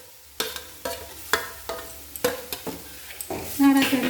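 A utensil stirs grated carrot and Kashmiri chilli powder in hot frying oil, with repeated close scraping strokes over a steady sizzle and no talking.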